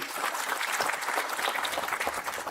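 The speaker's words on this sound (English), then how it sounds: "So a round of applause for the IPMA members." Audience applause for members of a pipe manufacturers' association at an industry conference, a steady dense clapping that fills the hall without pause.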